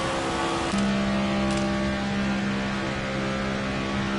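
Muffled in-car engine drone from a stock car in the racing game NASCAR 25, a steady low tone that steps up to a held pitch about a second in and runs evenly to the end, no talking.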